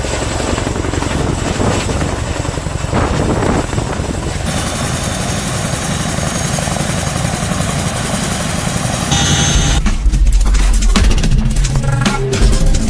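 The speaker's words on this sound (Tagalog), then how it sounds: "Philippine Air Force nakatutok pa rin na makuha ang CH-47 Chinook, isang heavy lift helicopter ng Amerika." A CH-47 Chinook heavy lift helicopter runs loud and close with a steady rotor and engine roar, shifting in tone partway through, with no talk over it.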